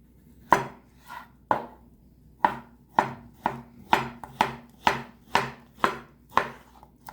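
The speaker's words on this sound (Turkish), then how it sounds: "Bu şekilde pancarlarımızı doğruyoruz." Knife chopping boiled, peeled beetroots on a board, about a dozen firm, evenly spaced chops, close and clear with no talk.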